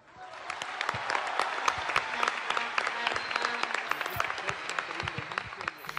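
Audience applause at a political speech, a dense, steady wash of many hands clapping that swells in and keeps going without pause, fairly distant and moderate in level with no clear voices above it.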